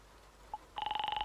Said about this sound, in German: Das Telefon der Kneipe.